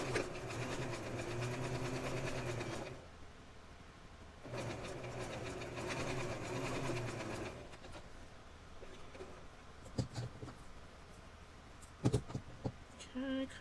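A sewing machine whirs in two steady bursts of rapid stitching through fabric, separated by a pause, followed by quieter clicks and handling sounds.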